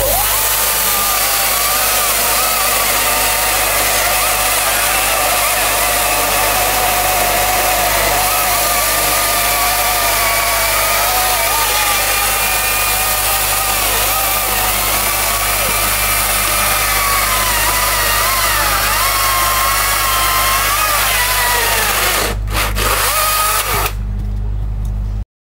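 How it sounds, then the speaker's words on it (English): Milwaukee M18 Fuel top handle cordless chainsaw runs steadily and close, a sustained high whine and buzz of cutting that carries on for over twenty seconds before cutting off abruptly. "Let's come to our next and nearest launch, the M18 Fuel Top Panel Chainsaw."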